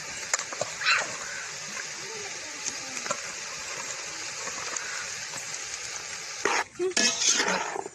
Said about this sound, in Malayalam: നന്നായി ഒന്ന് ഇളക്കി